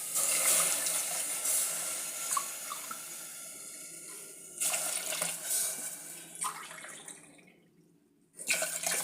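Water is poured from a cup into a pot holding lentils and tomatoes for sambar, several splashing pours with short pauses between, close and moderately loud, with no talking.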